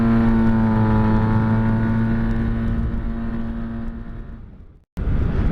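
A 2017 Yamaha T-max scooter weighing 250 kg accelerates close by with a loud, steady engine drone that fades and gives way to a second surge of engine noise.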